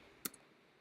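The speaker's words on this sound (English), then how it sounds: "I think we should add a clicking noise" A single short, crisp click, faint and isolated, with a softer tick just after, used as a sound effect in an animation timeline.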